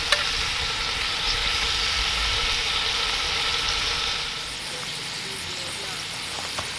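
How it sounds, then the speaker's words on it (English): Venison backstrap fries in a cast iron Dutch oven at a campground, giving a loud, continuous hiss of sizzling fat that eases off slightly toward the end. "we're gonna put our venison right there in the pot. Give it a quick fry on both sides."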